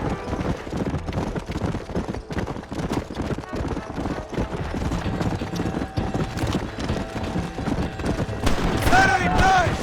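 A horse gallops in the video game Red Dead Redemption, with dense, steady hoofbeats driving throughout, a busy game soundscape around them, and a voice briefly speaking near the end.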